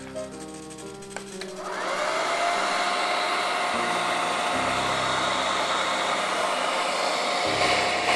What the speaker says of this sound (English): So if my friend will demonstrate with a hair dryer.